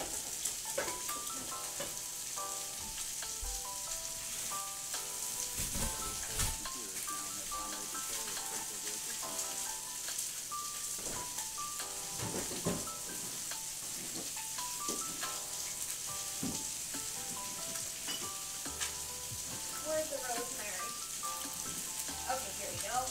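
Salmon fries in a pan beside green beans cooking on a home stove, giving a steady, soft sizzle with faint clinks and light stirring throughout.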